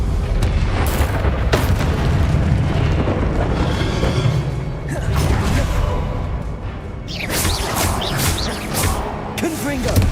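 Booming fire bursts and rumbling blasts come from a spell cast in Hogwarts Legacy, loud and repeated, with a roaring, crackling wash of flame between the hits and a voice shouting over them.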